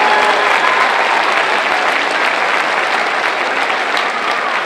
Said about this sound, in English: Let's give a big round of applause to everybody that worked so hard to organize this event this evening.